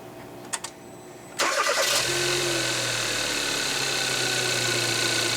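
A Kia Soul engine cranks after a spark plug change, catches with a sudden surge, and settles into a steady, even idle close by, with a few faint clicks beforehand and no talking.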